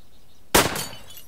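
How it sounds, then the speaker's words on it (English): A window pane shatters from a gunshot, one sudden sharp crash of breaking glass followed by a brief tinkling tail, with no talk. "A gunshot shattered a window pane on my left."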